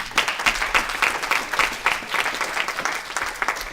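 Church congregation applauding in a steady run of rhythmic claps, fairly close and full, continuing throughout without talk on top.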